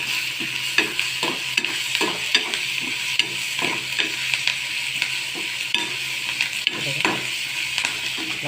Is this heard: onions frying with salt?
yes